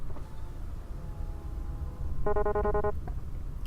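In a video game, a character speaks in brief electronic beeps, a short burst of tonal chirps like a phone tone over a low background rumble, faint and close.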